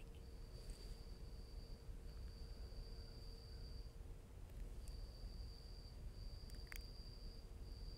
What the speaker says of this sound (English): Can you hear my cricket?